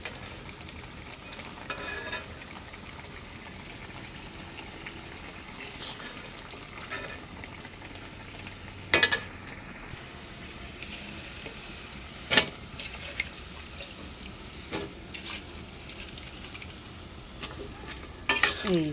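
Pangas fish fry and are stirred in a pan, giving a continuous soft sizzle broken by sharp scraping clicks from the spoon against the metal at irregular intervals.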